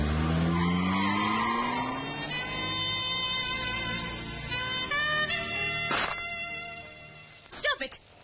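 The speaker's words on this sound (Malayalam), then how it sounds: "ഡ്രൈവർ, വണ്ടി എടുക്കൂ" A car pulls away with its tyres squealing in a long, loud, wavering whine that holds for several seconds, then ends in a few sharp, abrupt bursts.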